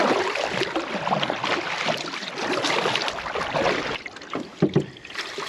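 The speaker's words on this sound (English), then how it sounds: "I can go way faster with a double paddle." A solo canoe is paddled with a double paddle on a lake in the Superior National Forest's Boundary Waters, giving soft rhythmic water splashes and drips under steady wind noise, with no talking.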